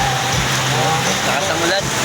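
Steady heavy rain falls in Raon, a loud, continuous hiss of water pelting surfaces nearby, with faint tonal traces of activity underneath.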